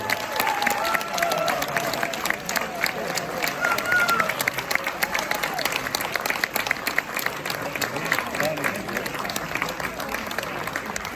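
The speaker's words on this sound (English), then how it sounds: "Steve Solomon, how about another round of applause? That was great." Sustained audience applause fills a celebrity birthday roast venue, dense steady clapping with some cheering voices mixed in, loud and continuous throughout.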